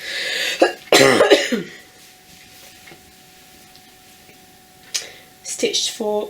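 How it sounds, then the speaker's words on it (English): A few sharp coughs close to the microphone, with brief voiced sounds around them, then quiet and another short burst at the end. "I've got a little bit of a cough as well"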